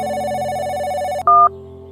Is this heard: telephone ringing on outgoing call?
yes